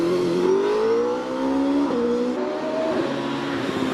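An OMS 28 hillclimb race car with a 2.8 litre PowerTech V8 screams up through the revs and shifts gears on a hillclimb course, a loud, continuous engine run heard alone.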